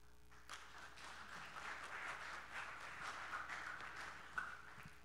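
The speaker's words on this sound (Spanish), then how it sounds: "los aplausos más tímidos son para el gobierno y los aplausos fuertes son para el sector social" Polite, restrained applause from a conference audience at a session on financial inclusion, a faint steady patter of scattered clapping lasting several seconds at low volume.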